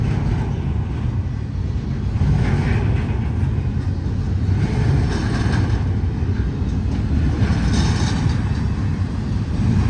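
A very long freight train of double-stack well wagons rolls past nearby, giving a steady, loud low rumble and wheel roar with faint metallic squeals. It holds constant throughout with no voices.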